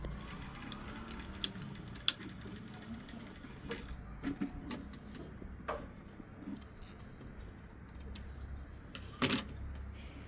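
A sewing machine stitches a garment at home, heard faintly as soft mechanical ticking and clicking with a few sharper knocks, low and intermittent throughout.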